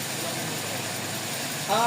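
A Toyota 4A-FE car engine idles while warming up, giving a low, steady hum close by as someone talks over it.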